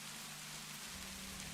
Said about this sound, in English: That rain sounds nice.